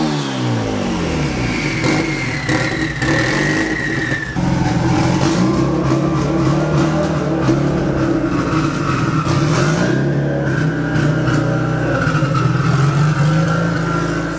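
A big-turbo Evo car engine idles loudly up close, then revs with rising and falling pitch and a whistling turbo spool, a sustained rough drone throughout.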